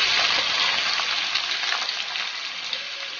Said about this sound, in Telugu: యాడ్ చేసుకుని కొంచెం ఎర్రగా గోల్డెన్ బ్రౌన్ లోకి వచ్చేంత వరకు ఫ్రై చేసుకోవాలి